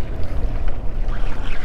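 A panga motorboat runs on open water near a jetty during fishing, its steady low engine rumble mixed with wind and splashing hull noise, loud and close throughout.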